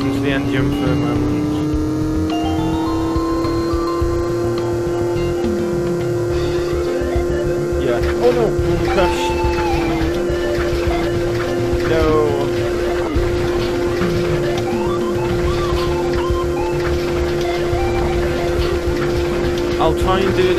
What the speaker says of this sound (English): I'll let you listen to the engine for a moment.